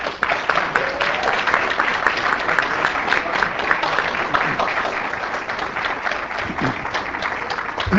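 Sustained audience applause welcoming speaker John F. McManus at a talk in Texas, a dense, steady clapping from a full crowd lasting throughout without a break.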